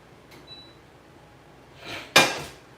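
A pot and skillet are handled on a stove in a home kitchen, with a faint clink early on, then a soft scrape and one sharp, close metallic clatter that rings briefly.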